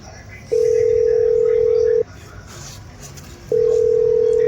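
A telephone tone sounds as someone places a call: two long, steady electronic tones separated by a short gap, loud and close over faint background noise.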